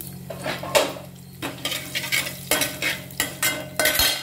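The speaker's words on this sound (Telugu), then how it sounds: "పోపు బాగా వేగాలి." Mustard seeds, cumin seeds and urad dal sizzle as a tempering in a hot pan while a spatula scrapes and taps the metal in repeated close strokes over the steady frying hiss.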